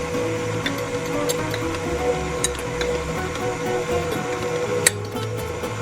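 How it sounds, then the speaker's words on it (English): Stand mixer paddle working sticky banana coconut cookie dough, a steady whirring hum with scattered light clinks and knocks against the bowl, continuous and fairly loud with no talking. "the dough is sticking to the paddle of the stand mixer"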